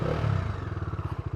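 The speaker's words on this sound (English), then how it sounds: "Let's start up the motorcycle and hear the exhaust note." A Bajaj Dominar 250 motorcycle starts and settles into idle, its deep, bassy exhaust thumping in a fast, even pulse, loud and close, with no voices.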